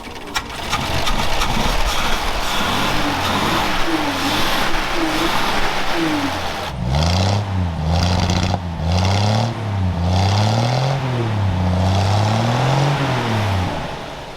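A Toyota Iron Pig truck engine, left unused for 45 years, runs rough and loud up close, repeatedly rising and falling through revs with a wavering pitch and a brief stumble midway.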